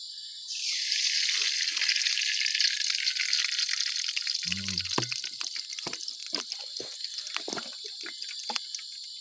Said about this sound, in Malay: kita masukkan minyak dulu